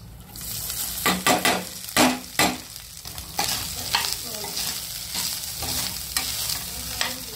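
Almonds and coconut roasting in a pan over low gas, with loud, repeated scraping strokes of a spoon stirring through the mix above a soft, steady sizzle.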